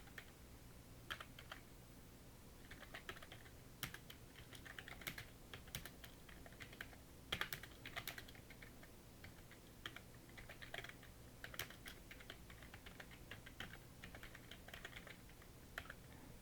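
Computer keyboard keys tapped in an irregular rhythm during a PowerPoint exam walkthrough, including Shift+Enter presses, quiet and close with brief pauses between bursts of keystrokes.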